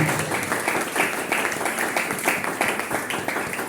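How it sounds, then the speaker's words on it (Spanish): A church congregation applauds during a worship service, a dense, steady wash of many hands clapping at once, sustained and moderately distant throughout. "que puedan aplaudirlo en esta hora"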